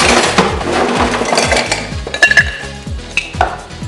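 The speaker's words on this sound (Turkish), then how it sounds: "Shaker'ımıza gene bir miktar buz ekliyoruz." Ice dropped into a cocktail shaker while making a White Russian: a quick run of hard clinks and rattles against the metal, close and fairly loud, with no talking.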